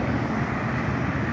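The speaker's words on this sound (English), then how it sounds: "Should be a jet coming between these two buildings somewhere." A jet airplane passes over a downtown area between tall buildings, heard as a steady broad roar that stays fairly faint and distant, mixed with city background noise and no talk.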